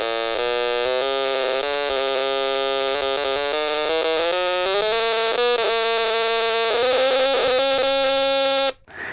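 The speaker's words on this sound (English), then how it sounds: "As you can hear, it's a little bit scratchy sounding." A vintage Stylophone plays a series of stepped notes in a scratchy, buzzing, bee-like electronic tone. It is loud and close and runs alone, ending abruptly.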